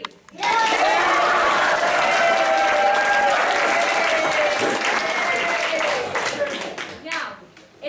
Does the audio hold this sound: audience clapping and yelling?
yes